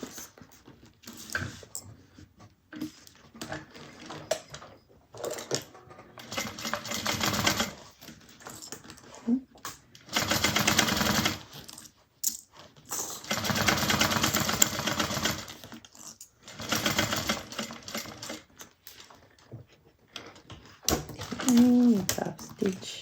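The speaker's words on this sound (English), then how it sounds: "So now we're just going to top stitch both of these panels." A sewing machine top-stitching fabric bag panels runs in several loud bursts of rapid stitching, separated by quieter pauses with a person talking between runs.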